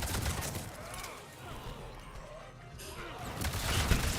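Bursts of enemy gunfire in the Mass Effect 3 video game crackle densely through most of the stretch, dipping briefly midway before swelling again, with a player's voice talking over the shooting.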